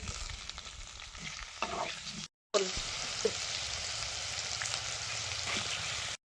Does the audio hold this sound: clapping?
no